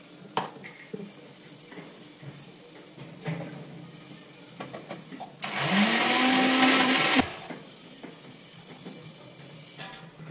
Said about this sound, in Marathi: मी आता हे थोडंसं पाणी टाकून मिक्सरला बारीक वाटून घेते.